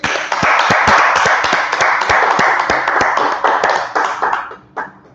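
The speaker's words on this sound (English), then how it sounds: "Let's clap it up first" Group clapping hands together at an ISUPK gathering in Minneapolis, loud close rhythmic claps with sharp individual strikes over a dense layer of applause, tapering off near the end.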